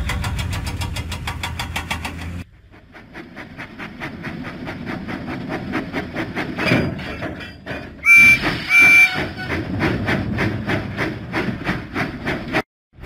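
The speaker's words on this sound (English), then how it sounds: "Huffing and puffing, Percy set out for the steamworks." A cartoon Thomas and Friends steam engine huffs and puffs steadily along the track, its rhythmic chuffs repeating close and loud, with a brief pair of whistle toots partway through.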